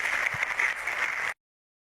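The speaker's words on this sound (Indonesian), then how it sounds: "tepuk tangan ibu untuk Pak Hilman." An audience at an Islamic talk claps in a short, fairly faint burst of steady applause that ends abruptly into silence.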